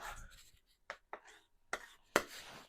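A palette knife cuts a roll of liquid white paint and scratches it into an oil painting, giving a few short, soft scraping strokes, close and fairly quiet, with a brief louder scrape near the end.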